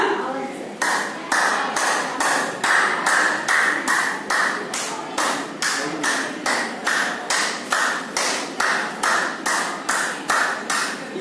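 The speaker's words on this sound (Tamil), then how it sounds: "இந்த 5 விரலும் நல்ல சத்தமா நான் வரும்போது நீங்க அப்புறமா தட்டுங்க" Loud tapping with all five fingers of a hand, struck about twenty times in a steady, evenly spaced rhythm of sharp, close slaps that repeat without pause.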